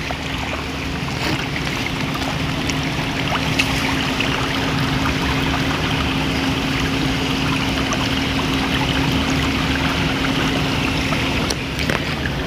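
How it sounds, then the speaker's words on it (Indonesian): Factory waste water from PT. SSKA at Dalu, Tanjung Morawa, pours steadily into a river, a loud, unbroken rushing wash of flowing water with a faint low hum underneath and no talk. "limbah sengaja dibuang ke sungai."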